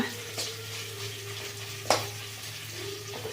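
Ingredients for a country-style egg chicken curry fry in a pan, a steady soft sizzle broken by a couple of short stirring scrapes, close and fairly quiet with no talking.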